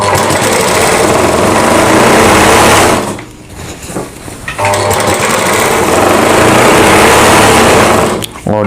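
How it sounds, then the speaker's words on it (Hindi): A sewing machine runs loud and fast stitching a Rajputi suit panel, a dense continuous whir that briefly slows and drops around the middle before resuming at full speed. "एक सिलाई निकालनी है हमें"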